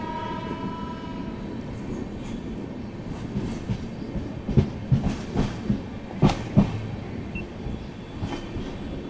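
Satavahana SF Express pulling out of Madhira station, wheels clacking in an uneven rhythm over rail joints with a rising series of sharp clatters, heard from inside a coach over a steady rolling rumble.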